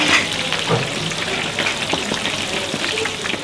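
Braised chicken legs frying at an Indonesian street food stall in Yogyakarta, a steady close crackling sizzle of hot oil with scattered pops and spatters throughout.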